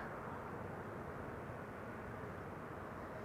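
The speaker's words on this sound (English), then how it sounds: "2 airplanes visible over here." Airliners arriving at Amsterdam Schiphol Airport, among them an A320neo and an A319, give a steady, fairly distant broadband roar that holds at one level with no gaps and no talk.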